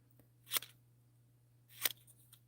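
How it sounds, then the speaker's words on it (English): Scissors snip paper during a stamping craft session, giving two distinct crisp cuts about a second apart plus a faint third, close and clear over a quiet low hum. "So we're just going to randomly snip around them with our scissors."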